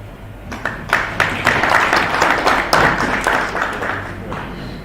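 An audience applauds in a steady wash of clapping that swells quickly and holds evenly, with faint voices underneath.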